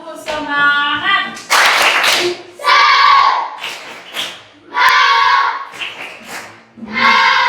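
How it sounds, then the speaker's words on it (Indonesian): A standing group at a Catholic religious-education teacher training session at STK St. Yakobus Merauke gives a spirited rhythmic clap, broken into bursts and mixed with loud chanted shouts and voices. "Berdiri dulu, tepuk semangat."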